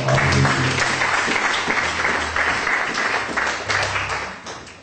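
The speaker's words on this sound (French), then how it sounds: "Applaudissons Jéhovah" A church congregation applauds in praise of Jehovah, a dense, sustained wash of clapping that stays loud throughout and eases off slightly toward the end, with a faint voice murmuring underneath.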